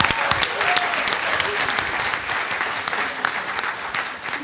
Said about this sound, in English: give a round of applause to yourself and to my colleagues